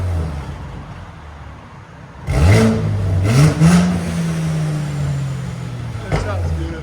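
A Mercedes-AMG C 63 with a twin-turbo 4.0L V8 and blow-off valves revs hard in a sharp surge that settles into a held drone, followed by brief pops, loud and close with someone talking over it.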